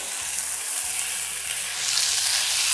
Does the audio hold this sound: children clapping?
no